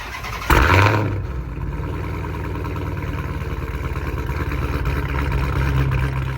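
A tuned 2016 Dodge Challenger Hellcat V8 starts with a sharp bark, then settles into a loud, deep, lumpy idle that rumbles steadily nearby with a slight rise toward the end.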